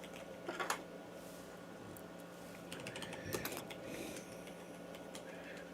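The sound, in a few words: typing on a computer keyboard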